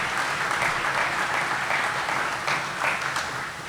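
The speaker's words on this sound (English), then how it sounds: "Out of a big hand for Cade, our Mountaineer." An audience at a West Virginia University press conference at Hope Coliseum applauds the Mountaineer mascot, a dense, steady round of clapping from a sizeable crowd that fades slightly at the end.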